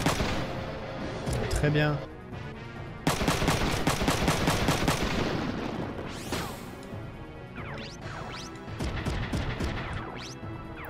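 Mechs trade gunfire in Front Mission 3, heavy rapid bursts like machine-gun fire and crashing impacts dominating the scene, loud and close, with someone talking briefly over the battle.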